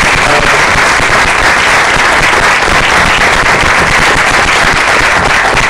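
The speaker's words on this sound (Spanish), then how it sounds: "por favor un gran aplauso para mí" A theater audience at a talk about the play La fiesta de cumpleaños gives loud, continuous applause, a close and densely crackling burst of many clapping hands that never lets up across the whole stretch.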